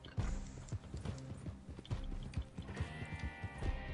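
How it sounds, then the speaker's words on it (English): Hooves of a horse clip-clop in a steady rhythm in a video game, close and fairly loud, with an in-game music or ambient bed underneath and no talking. "This horse is so slow."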